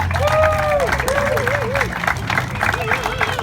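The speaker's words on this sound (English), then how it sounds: "hopefully a massive round of applause for Chinny and Doug, our wonderful teammates" An audience gives a round of applause for two teammates at a live event, steady clapping mixed with crowd murmur while a voice keeps talking over it.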